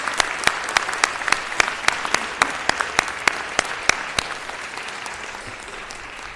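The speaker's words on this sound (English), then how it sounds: "I ask you to give him a big round of applause." Audience at a city council meeting applauds Roscoe, a steady, fairly loud round of many hands with sharp individual claps standing out, gradually thinning toward the end.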